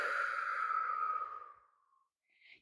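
A long, deep exhaled breath during a gentle beginner rebounder workout, loud at first and slowly fading over about two seconds, followed by a brief faint airy sound.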